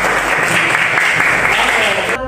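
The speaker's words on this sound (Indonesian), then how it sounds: "tepuk tangan buat kita semua" A classroom of students claps together in a loud, close burst of applause that ends abruptly.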